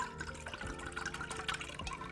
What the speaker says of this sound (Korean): 우리가 와인 한 컵 200ml를 넣어서 같이 끓여줄게요.